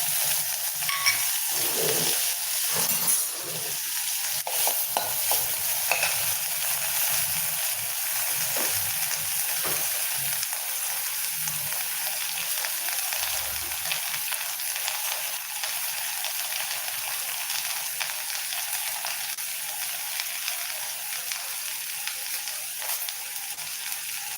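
Mustard seeds and urad dal sizzle in hot oil for snake gourd kootu, a steady bright frying hiss with scattered small pops and faint low clatter, continuous and fairly quiet.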